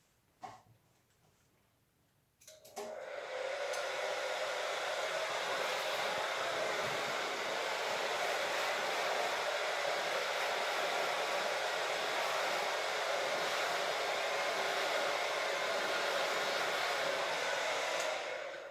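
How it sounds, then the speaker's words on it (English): A hair dryer switches on after a brief clack and then roars at a steady, loud, breathy whoosh while fine hair is blow-dried with a vent brush, continuous and unchanging. "I'm folding the hair as I'm blow drying it"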